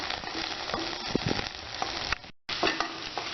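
Square-cut onions sizzle in hot oil in a pan for paneer butter masala, a close, steady frying hiss broken by a few scrapes of stirring and one brief drop-out.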